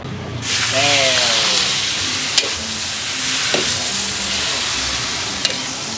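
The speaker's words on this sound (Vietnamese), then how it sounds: "Rồi bây giờ em sẽ xào nha." Vegetarian pho ingredients stir-fried in a hot pan with a little soy sauce, a loud steady hiss and sizzle with occasional sharp clinks of a utensil, while a voice speaks briefly near the start.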